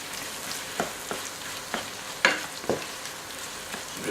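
Pepper eggs frying in a pan and being stirred, a soft continuous sizzle with distinct spatula scrapes and taps every half second or so, close and fairly quiet, without talk.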